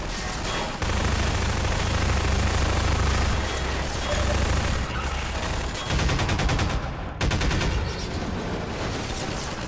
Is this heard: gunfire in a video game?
yes